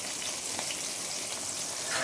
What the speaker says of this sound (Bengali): এদিকে আমার মাছটা মোটামুটি ভাজা হয়ে এসছে।